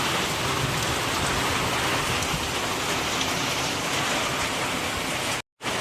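Heavy rain pours at night in Boodagumpa, a dense steady roar close by with no voices, cutting out briefly near the end.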